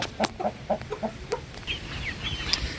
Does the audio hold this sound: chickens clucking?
yes